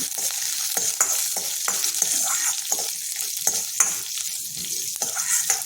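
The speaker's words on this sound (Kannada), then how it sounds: "ಅದಕ್ಕೆ ಉದ್ದಿನಬೇಳೆ ಮತ್ತು ಒಂದು ಐದಾರು ಹಸಿಮೆಣಸಿನ್ಕಾಯಿ ಹಾಕ್ಕೊಂಡು ಹುರ್ಕೊಳ್ಳೋಣ" Urad dal and a handful of green chillies fry in half a spoon of oil in a wok, a steady bright sizzle broken by regular scraping stirs, close and alone without any voices.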